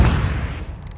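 A single heavy missile launch booms in the Call of Duty: MW2 video game, a loud blast at onset that rumbles and fades over a second.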